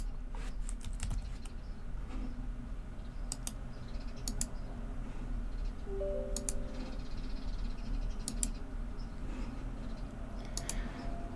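Command being typed on a computer keyboard into a Windows 10 command prompt, scattered bursts of crisp key clicks in short runs with gaps, close over a steady low hum, no speech.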